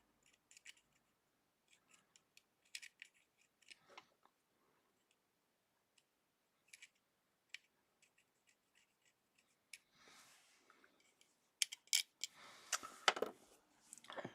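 Small clicks and snips come from trimming a part of a Spitfire scale model: scattered faint ticks at first, then a denser burst of close, crisp cuts and plastic handling near the end.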